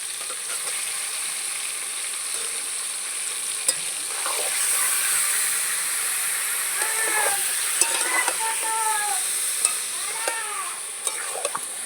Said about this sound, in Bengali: একটু ভেজে নেব পুরো মাংসটা দিয়ে দেবো